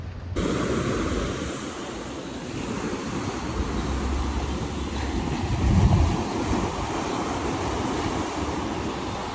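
Ocean surf and gusty wind at a San Diego beach, a broad continuous rush of breaking waves with heavy wind buffeting the microphone, swelling slightly midway, with no voices.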